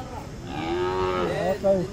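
A Hallikar cow at a cattle fair moos once, a long low drawn-out call nearby, with a rising end and faint background noise.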